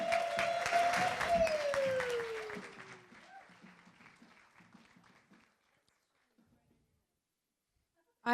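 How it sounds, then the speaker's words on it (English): Audience applause and cheering welcoming the co-presidents of Eureka Recycling onstage at a zero waste summit, loud at first with a whistle-like tone, then thinning out into scattered claps and fading to near silence. "Please, big round of applause."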